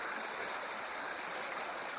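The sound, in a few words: small rapids on a stream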